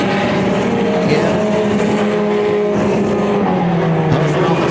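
Race cars roar continuously around a raceway track on opening night, a loud sustained engine drone with shifting pitch as they push off one turn and down the back straightaway.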